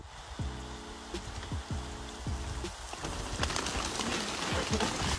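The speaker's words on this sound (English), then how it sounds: "I've never seen any rain come at me like this." Steady rain patters across a surface, with soft cooing birds in the first few seconds and the downpour growing denser toward the end.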